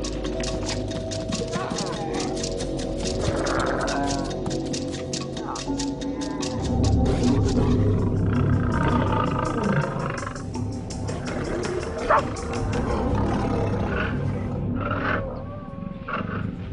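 Lions roaring in the wild, deep throaty roars rising over a dense bed of outdoor ambience and narration-like voice, sustained across the scene with swelling, rumbling bursts near the middle.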